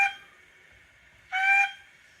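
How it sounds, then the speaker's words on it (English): A high model steam locomotive acknowledgement whistle sound effect sounds faintly at first, then a short, louder blast of about a third of a second near the end, with no one talking. "7 is the acknowledgement whistle."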